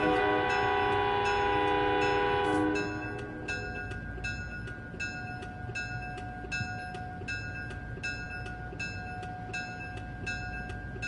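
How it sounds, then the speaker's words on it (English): An Amtrak Acela train passes in the Train Sim World 3 game, with a loud opening blast that cuts off, then a steady run of regular rhythmic clicks and a sustained tone over low rumbling. "Beautiful Amtrak Acela."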